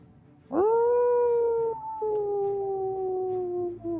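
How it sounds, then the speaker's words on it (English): A single long wolf howl played as a sound effect during a tabletop roleplaying session, rising sharply then holding a steady, slowly falling tone with a brief break midway, loud and alone. "So do we see them, or we just heard the howl at this point?"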